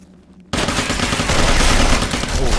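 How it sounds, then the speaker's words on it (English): Rapid automatic gunfire in the video game Interstellar Marines erupts suddenly and continues as a dense, loud, sustained fusillade of close shots. "Very inaccurate fire."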